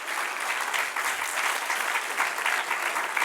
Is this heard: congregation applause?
yes